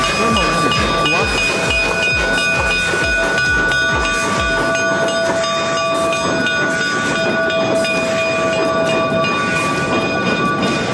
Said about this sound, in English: Steam trains are old generation railway vehicles used to transport passengers and goods.